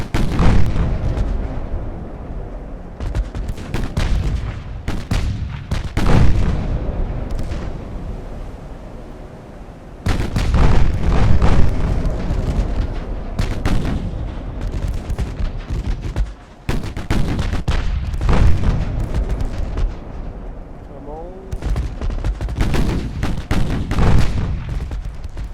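Naval gunfire from battleships and destroyers in the game Ultimate Admiral Dreadnoughts, loud dense volleys of booming cannon shots and explosions in rapid overlapping bursts, with brief lulls between salvos.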